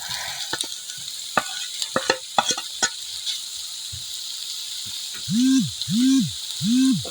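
Hotdog pieces go into a pan of frying onions, giving a steady sizzling hiss broken by scattered crackles and stirring clicks, with a few short humming tones near the end.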